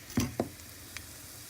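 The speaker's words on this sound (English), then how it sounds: "I hear some sizzling, so I'm going to go ahead and put it down." A couple of short wet splats and crackles, then faint hissing over a quiet background, like pupusas hitting hot oil and starting to sizzle.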